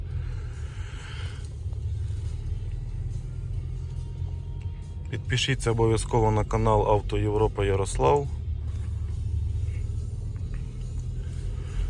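A 2018 Mercedes-Benz GLE on a test drive produces a steady low road rumble and engine hum throughout, with someone speaking briefly in the middle over the driving noise.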